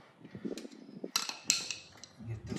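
Anti-rattle clips are pressed into the brake caliper bracket of a 2015-2022 Ford Edge with electric calipers. Two crisp metallic snaps ring out close together over faint handling clatter.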